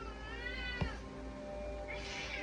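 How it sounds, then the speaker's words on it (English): A house cat meows in a drawn-out, wavering cry that rises and falls across a steady background hum, close by and moderately loud, with no speech over it. "My cat."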